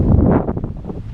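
Steady gusts of wind over Buckeye Lake buffet the microphone, a low rumbling roar with faint rustling, no voices present.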